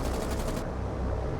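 Aircraft cannons firing in the naval combat game War on the Sea over the Mediterranean, a rapid dense burst of automatic gunfire that cuts off partway, leaving a loud rumbling engine drone.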